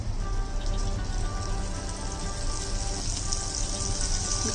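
Butter sizzles steadily in a hot pan while sweet corn chaat is being made, a continuous close crackling hiss with no pauses.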